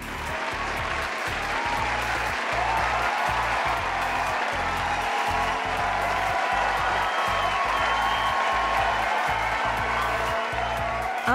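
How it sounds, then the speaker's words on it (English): A crowd at a beauty pageant final claps steadily and loudly, a dense wash of applause that holds at the same level from start to finish. "Let us give them a round of applause"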